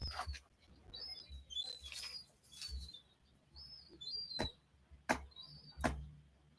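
A small bird attacking a rose bush chirps in short, bright bursts of tweets, with a few sharp rustling snaps from the bush, fairly close and otherwise quiet.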